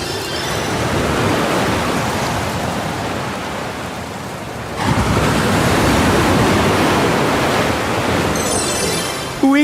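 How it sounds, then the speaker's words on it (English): Cartoon flash flood: a loud, steady roar of rushing water that briefly dips and then surges back, ending in a short sharp effect. "Looks like a flash flood."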